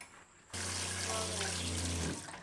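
Water gushes from a newly installed faucet in a vegan food truck trailer. After a quiet moment it starts abruptly as a close, steady rushing stream, then tapers off at the end.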